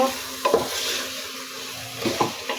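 Meat being stir-fried in a pressure cooker, with a spoon scraping through it in two distinct bursts over a steady, soft sizzle; no talking.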